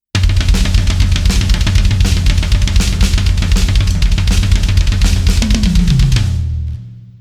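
A drum kit plays a dense, rapid lick with bass drum strokes filling the gaps between the hand strokes, loud and close, ending in a decaying ring.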